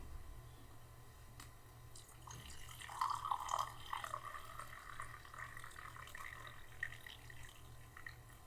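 Hot water is poured, starting with a few faint drips and then becoming a steady, splashing trickle of liquid. It carries on to the end at moderate loudness over a low background hum, with no voices.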